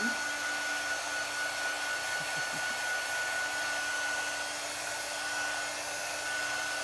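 A hair dryer blows steadily on a no-sew fabric craft project, a continuous close, loud whirring hum that holds unchanged from start to finish.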